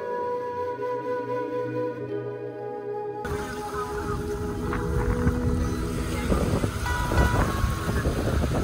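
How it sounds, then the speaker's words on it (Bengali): Strong wind blows in off the sea at Parki beach in Chattogram, a constant loud rushing roar buffeting the microphone; it swells after a quieter, hum-filled opening few seconds. "দেখেন সাগর থেকে প্রচন্ড রকম বাতাস কিন্তু ভেসে আসছে"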